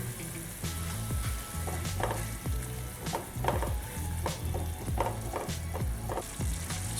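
Spice masala with chili, coriander and onion powders cooks in a pan, a dense steady sizzle under rhythmic, repeated stirring scrapes and taps, close and unbroken by speech.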